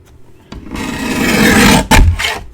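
Cardstock being trimmed for a handmade card: a close, loud rasping scrape lasting over a second, cut off abruptly, then a brief second scraping pass.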